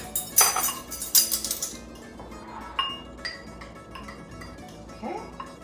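Herb blend ingredients being mixed in a bowl, with bright clinks and scrapes of a spoon against the dish, busiest in the first two seconds and then sparser light taps, faint and close.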